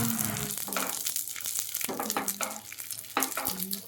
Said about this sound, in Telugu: ఫ్లాక్స్ సీడ్స్ ఆల్మోస్ట్ ఫ్రై అయినాయండి